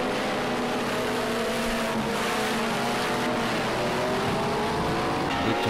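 A Mitsubishi Lancer Evolution VI engine in the Project Cars 2 racing game, on track at Oschersleben, revs steadily and accelerates with a loud, continuous droning roar and no pause.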